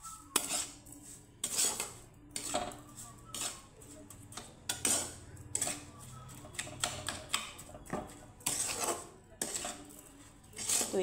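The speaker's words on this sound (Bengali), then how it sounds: "তো একদম লো ফ্লেমে আমার এটাকে নাড়িয়ে চাড়িয়ে দিতে হবে।" A spatula scrapes and clinks against a pan as a mango and paneer mixture is stirred over a low flame, giving irregular repeated metallic taps and scrapes, fairly quiet, with occasional soft talk.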